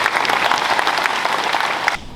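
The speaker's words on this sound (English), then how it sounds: "If we could give these guys a round of applause" A school assembly crowd applauds students, a dense, steady wash of many hands clapping at once, loud and sustained before cutting off abruptly.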